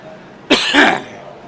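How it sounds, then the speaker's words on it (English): A single close, sharp cough, short and loud against a quiet background. "Excuse me, I didn't mean to cough."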